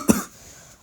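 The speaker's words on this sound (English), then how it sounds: "Sorry, I'm just coughing a lot." A single sharp cough bursts out near the start, loud and close, then fades into quiet room tone for the rest of the moment.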